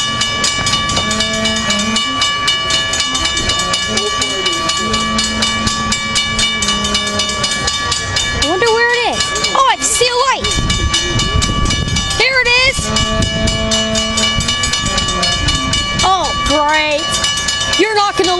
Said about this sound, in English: I guess we'll just find out when this train arrives then.